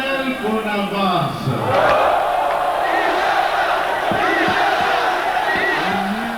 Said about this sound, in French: la foule criait sur le coup de l'émotion